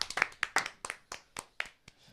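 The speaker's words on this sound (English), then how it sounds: "Let's clap." A group claps together on a morning show, about eight quick, fairly even handclaps over two seconds, close and crisp with no voices.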